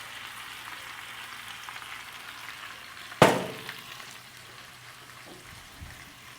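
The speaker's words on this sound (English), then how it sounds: "just stir the whole thing together" Potatoes and onions cook in bacon grease in a Dutch oven with a soft, steady frying hiss; a single sharp clank of a utensil or lid strikes partway through, followed by faint stirring sounds.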